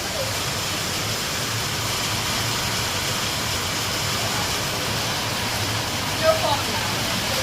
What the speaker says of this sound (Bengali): দেখো বাইরেটা প্রচুর বৃষ্টি হচ্ছে